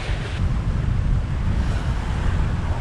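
Sailboat beating to windward in about 16 knots of true wind at 7.5 to 8 knots, a steady loud rush of water and waves against the hull with heavy wind buffeting on the microphone, continuous with no voices.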